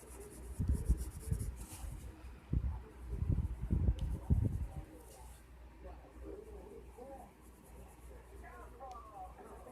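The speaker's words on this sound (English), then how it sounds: "I could just go in like a regular coloring pencil and add in the darks." A watercolor pencil scratches across paper in several quick bursts of strokes during the first half, then only faint, light rubbing against a quiet room.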